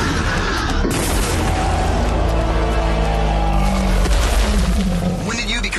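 Rapid automatic gunfire from a cartoon's automatic defense system, loud bursts and booms layered over dramatic music and voices throughout.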